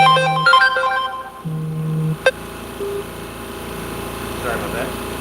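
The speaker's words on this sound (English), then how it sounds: "Phone tried to ring." A phone rings briefly with an electronic tone in a print shop, two short buzzy tone bursts separated by a pause, followed by a sharp click and a low steady machine hum.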